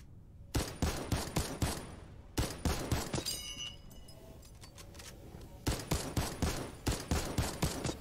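Rapid automatic gunfire from a video game replay arrives in three separate bursts of fast, sharp shots with short quiet gaps between them, loud and with no talking.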